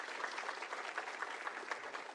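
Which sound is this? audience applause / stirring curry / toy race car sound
audience applause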